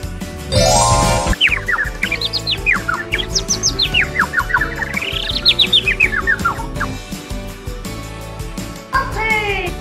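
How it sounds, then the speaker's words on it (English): Chirping bird calls with rising and falling whistled phrases over a busy children's song backing track, fairly loud and continuous, with a brief second chirp near the end. "Blue bird."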